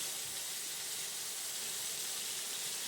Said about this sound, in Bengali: এবার ওই তেলটার মধ্যেই আমি আদা রসুন কাঁচা লঙ্কা আর পেঁয়াজ বাটাটা দিয়ে দিলাম